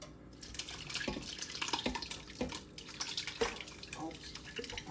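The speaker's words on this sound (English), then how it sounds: "it's a bubbling, so we're gonna go ahead and pour it in there" Boiling pasta water pours into a kitchen sink with steady splashing and trickling, drips and bubbling pours, moderately loud and close.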